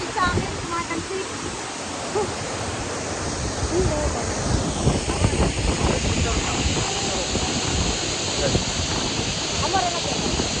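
Broad, steady rush of falling water at a rural waterfall, loud and close throughout, with occasional splashing and a person's voice mixed in.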